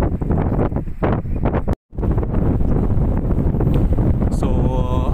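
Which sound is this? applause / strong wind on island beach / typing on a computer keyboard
strong wind on island beach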